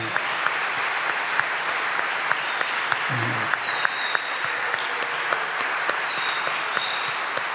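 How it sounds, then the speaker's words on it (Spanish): Church congregation applauds, a dense continuous clapping that stays loud and even throughout, with scattered voices mixed in. "Yo creo que el Señor se merece un aplauso por todo esto"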